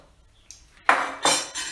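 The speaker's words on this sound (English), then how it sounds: "So chop them in chunks really, and throw them in." A knife chops sweet potato into chunks on a board, making a few crisp, close knocks with clinks of the blade. No voices.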